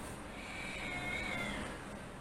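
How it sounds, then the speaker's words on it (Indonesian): A cat meows faintly in the distance, one thin drawn-out cry rising over a steady hiss of background noise. "Ada kucing."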